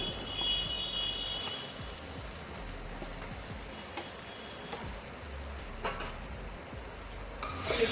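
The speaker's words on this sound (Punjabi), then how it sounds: "ਮਸਾਲੇ ਨੇ ਤੇਲ ਛੱਡ ਦਿੱਤਾ ਹੁਣ ਮੈਂ ਸੋਇਆਬੀਨ ਪਾ ਦਵਾਂਗੀ" Soybean chunks are stirred into masala frying in oil, a quiet, steady sizzle with soft scraping and a few light knocks of the spoon.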